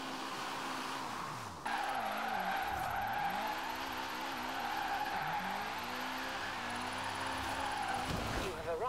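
A Nissan Silvia K's S13 drift build in Forza Horizon 4 skids and spins out, its engine wailing up and down in pitch over sustained tire squeal, with a voice talking over it.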